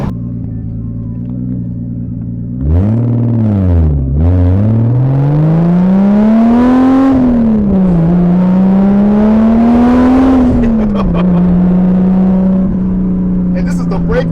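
A pink, turbocharged BMW E30 with a 2JZ engine swap revs at partial throttle. Its engine note sweeps up and down in repeated smooth rises and dips, loud and close, while people talk over it.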